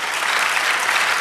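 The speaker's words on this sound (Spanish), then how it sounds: "¿No merece, Señor, un aplauso?" Church congregation applauding during a Spanish-language sermon, a dense, steady wash of clapping from many hands that fills the whole moment at a loud level, with no voice over it.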